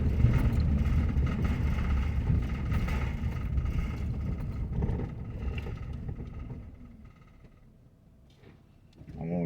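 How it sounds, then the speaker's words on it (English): Car driving down Faulkner Street toward West 15th in Anderson, Indiana, heard from inside as a steady engine and road rumble with wind noise, easing off toward the end. "Right now I'm driving down Faulkner Street, going towards West 15th."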